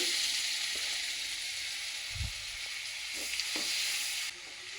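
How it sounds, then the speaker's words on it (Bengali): Oil and butter sizzle in a karahi while kadai paneer is being prepared, a continuous close hiss with a few soft knocks and clinks underneath and no talking. "এবার কড়াইতে অল্প পরিমাণ তেল, বাটারটা দিয়ে দিলাম।"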